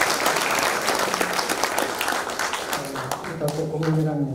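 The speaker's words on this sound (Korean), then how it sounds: "우리 모두 박수를 드리겠습니다" Audience at a Korean church denominational general assembly applauds steadily in a dense, sustained burst of clapping that thins toward the end as a voice begins speaking.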